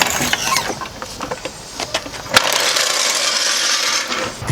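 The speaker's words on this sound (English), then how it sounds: "And lower your jack down." A car jack being lowered after a lower control arm replacement, a series of metallic ratcheting clicks and clanks followed by a steady mechanical hiss as the jack eases down, close and loud.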